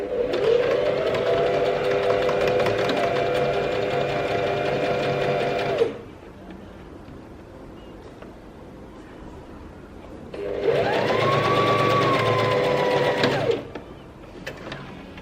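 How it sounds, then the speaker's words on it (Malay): A sewing machine runs a straight stitch along the seam of a sleeveless dress, in two steady motor bursts of about six and three seconds separated by a quiet pause, close and loud with no talking. "So kita kena start jahit. Kita gunakan jahit lurus."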